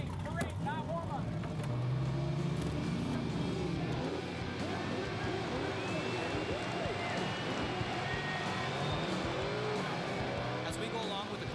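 Drift car engines rumbling and droning steadily through a parade lap at a drifting event, continuous mid-distance motor noise with a crowd-like wash underneath and a commentator talking over it.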